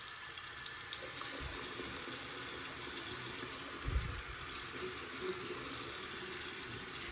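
A sink tap runs warm water steadily to rinse an oil paintbrush, a continuous close broadband splash with a couple of brief low thumps as the brush or hands move under the stream, no talking.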